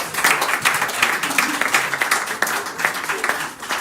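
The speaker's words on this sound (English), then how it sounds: "I think we deserve a round of applause." An audience at a high-level forum on artificial intelligence gives a round of applause, steady moderately loud clapping from many hands that carries on for a few seconds without talk.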